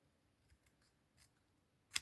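Scissors make one sharp, close snip through card scraps near the end, preceded by faint handling rustles in a quiet room.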